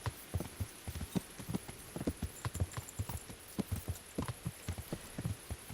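Horse hooves clip-clop at a steady walking pace in the video game Kingdom Come: Deliverance, with rhythmic close thuds over a faint background hum.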